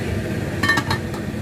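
A metal lid settles onto a pot of boiling macaroni soup with a few quick clinking taps, close and fairly soft, over a low background hum.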